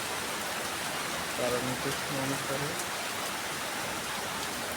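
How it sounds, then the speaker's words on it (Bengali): Steady rain falls in Nilphamari, a dense, even hiss that fills the whole scene. Someone speaks briefly partway through, his voice sitting under the constant downpour. "আল্লাহ খুব সুন্দর বৃষ্টি দিচ্ছে"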